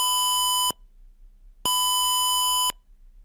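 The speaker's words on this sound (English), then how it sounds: "You can use this buzzer to any sort of project where buzzer sound is needed." An Arduino buzzer in simulation sounds a steady, loud electronic tone in two long beeps of about a second each, separated by roughly a second of near silence.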